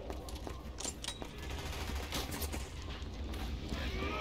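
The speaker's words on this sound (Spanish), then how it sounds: "Veo los disparos, pero no veo a nadie." Distant bursts of automatic gunfire from the video game Resident Evil 6, a steady rattling fusillade held low and faint in the background with no voices over it.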